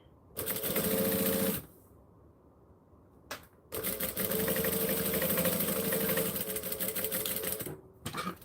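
Domestic sewing machine top stitching fabric, whirring steadily in two long runs with short quiet pauses between them, loud and close.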